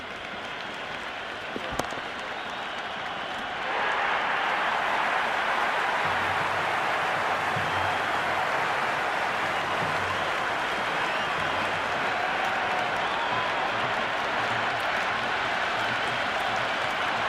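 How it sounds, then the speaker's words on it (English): Stadium crowd in the cricket video game Cricket 26. After a quiet start, a dense, steady roar of cheering and clapping swells up and holds at a constant level, with faint low thumps underneath. "It's evident and ever so audible that the crowd is at near bursting point at today's play."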